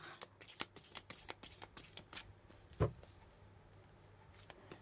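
Tarot cards are shuffled during a card reading, with rapid, crisp riffling taps repeating close by and one louder thump partway through. No voice is heard.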